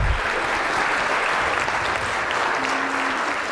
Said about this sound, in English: one more round of applause for his message tonight